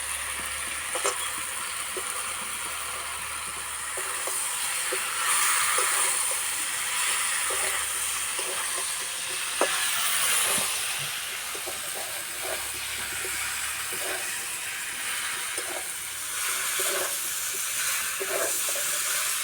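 Fried potatoes and boiled jackfruit added to hot oil in a pan, a broad steady sizzling hiss with scattered soft clinks and scrapes throughout, close and fairly loud with no talking.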